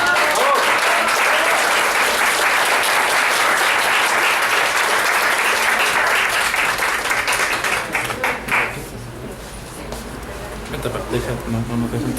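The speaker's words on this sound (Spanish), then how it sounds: "Vamos a darle la bienvenida a la doctora Silvia, que siempre nos hace favor de estar con nosotros desde Toluca. Vamos a darle un aplauso" Loud, dense audience applause welcomes a doctor onto the stage and holds strong for about eight seconds before dropping off sharply, with murmured voices and faint sounds lingering after.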